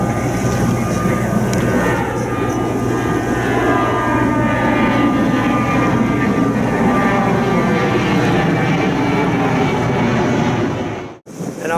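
An airliner passes near Barcelona airport with a loud, sustained engine roar and whine that fills the whole span and cuts off abruptly near the end.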